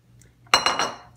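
Peanuts pour into a bowl in a home kitchen for an Eid sweet, landing as three quick clattering bursts that ring briefly and fade, close and fairly loud with no talk.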